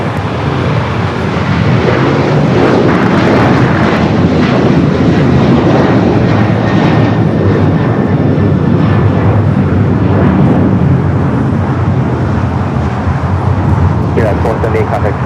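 A jet airliner roars down runway 25 right at LAX on takeoff, a loud, continuous engine rumble with voices talking over it throughout.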